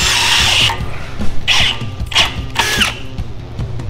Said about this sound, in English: These drill bits, look at them. They're a stepper bit.